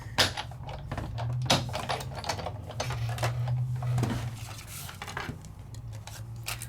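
A Sizzix die-cutting machine feeds a paper element through its rollers, giving a steady low mechanical hum with scattered clicks and clatters on the worktable, close and moderately loud.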